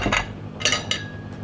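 Dishes being washed give a few short clinks and clatters of plates and cutlery in a sink, spaced irregularly over quiet background noise, with no one talking.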